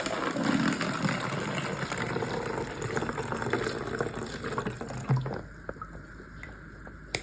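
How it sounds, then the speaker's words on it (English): Vinegar glugs steadily from a container into a plastic water bottle, a continuous pouring splash that thins out and stops after about five seconds, leaving a quiet background. "First, pour some vinegar into the plastic bottle about a quarter full."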